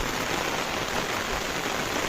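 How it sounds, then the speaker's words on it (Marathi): Heavy rain with big drops pours down steadily outdoors near farm fields and fencing, a dense, even hiss of falling water close by with no voices over it. "हा जो पाऊस तुम्हाला दिसतोय एकदम जाडा जाडा पडतोय"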